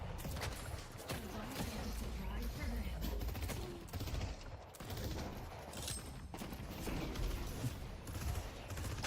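Gunfire in the hero shooter Deadlock: sustained rapid shots and bursts layered over a dense, noisy game mix, with a voice talking over the action throughout.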